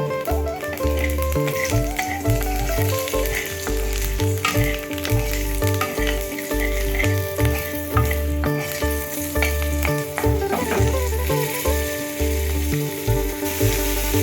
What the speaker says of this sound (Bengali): কড়াইয়ে সর্ষের তেল দিয়ে দিলাম, ফোড়ন দিচ্ছি কালো জিরে আর একটা কাঁচা লঙ্কা।